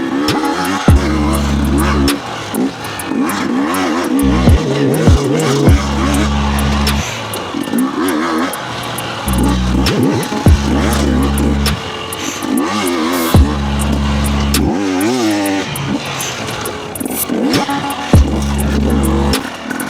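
A new motorcycle pulls away and accelerates hard through second gear, its engine rising in repeated loud revving surges with brief drops between them, close to the rider throughout.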